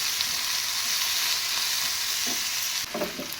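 Sambar masala of tomato and onion fries in a pan, giving a steady close sizzle with a few soft stirring scrapes near the end.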